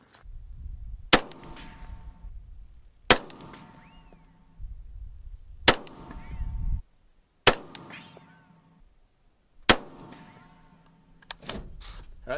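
AR15 rifle shots fired as a group at a range: five or six sharp, loud reports spaced a couple of seconds apart, each followed by a short decaying echo, with faint handling noise between shots.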